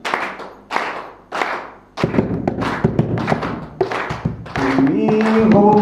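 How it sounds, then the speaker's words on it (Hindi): Several separate bursts of hand clapping from a gathered crowd at a padyatra welcome reception, then denser clapping under a rising musical tone near the end. "तालियां।"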